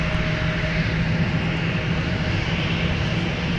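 A jet airliner roars steadily down runway 17 at MSP airport on its takeoff run, a loud, continuous broadband engine rush with a faint tonal whine and no voices.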